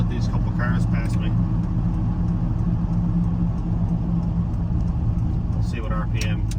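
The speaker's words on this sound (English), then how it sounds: "I can let these couple cars pass me" Several cars pass a cammed pickup truck on a road, heard from inside the cab as a loud, steady engine rumble and road drone throughout, with a person talking over it.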